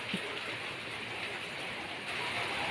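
Steady rain pours down during a renewed downpour over previously flooded ground, a dense continuous hiss that stays even and fairly near throughout, with no voices.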